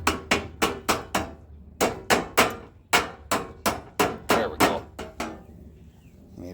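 A hammer strikes metal to flatten it while repairing a Briggs and Stratton mower starter, about fifteen sharp, ringing blows close by in quick uneven bursts with short pauses, no talking.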